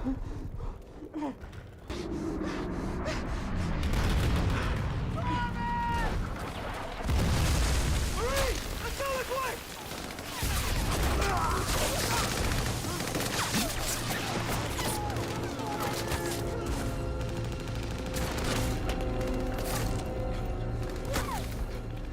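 Mortar explosions in a battle scene from The Pacific at the Peleliu landing, heavy booms and blasts over a dense roar of combat noise, with gasping and reactions mixed in, loud and sustained.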